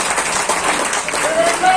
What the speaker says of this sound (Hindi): तो एक बार अपने लिए जोरदार ताली बजाइए।